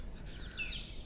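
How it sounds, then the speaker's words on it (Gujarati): Birds chirping near the Mahisagar river, a few faint high tweets and short whistled calls over a quiet, low outdoor rumble with no one speaking. "ટહુકા કરતો મોર અને અલગ અલગ પંખીઓનો કલરવ કરતો"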